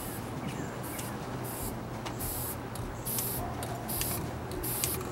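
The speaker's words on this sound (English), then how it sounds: "I see spray going everywhere" Short repeated bursts of aerosol spray hiss sharply, several in quick succession, over a low rumbling background.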